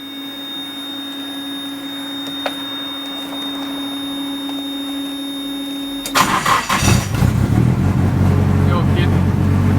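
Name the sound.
Nissan S13 car engine starting after ground-up build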